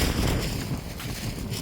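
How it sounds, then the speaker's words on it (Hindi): Hot wind blowing outdoors past a garden with flowering plants, a loud, steady rumble of gusts hitting the microphone with no talking. "गर्म हवा चल रही है"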